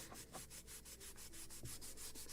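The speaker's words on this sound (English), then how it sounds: "mostly I will polish it with Scotch Brite, because it is very good or perfect tool for removing all this fur hair" Wood on a Model Shipways gunboat Philadelphia model hull being polished with a Scotch Brite pad after sanding, a faint, steady run of quick rhythmic rubbing strokes.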